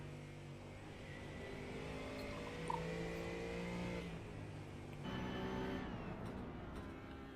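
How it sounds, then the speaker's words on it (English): A BMW GT3 race car engine hums at a steady, muted drone from inside the cabin, with the pitch shifting slightly as it shifts gears, fairly faint and without talk. "That is the most unexciting sounding GT3 car of them all"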